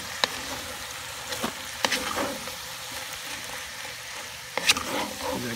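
Potatoes sizzling in a Lodge 12-inch cast iron Dutch oven, a quiet steady fry with a few sharp clicks and clatters scattered through it.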